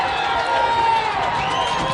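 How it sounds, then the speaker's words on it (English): A high school football crowd roars in a stadium during a Hobart Brickies versus New Prairie Cougars game, a dense sustained wash of voices with shouting rising over it, steady and loud across the moment. "Man, listen to that Bricky crowd roar"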